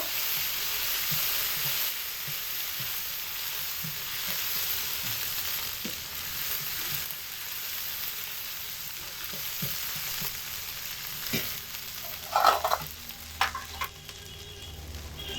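Salt and turmeric with other spices frying and being stirred together in a pan for a coconut okra dish, a steady sizzle with scattered scraping strokes and a brief louder clatter near the end, no talking.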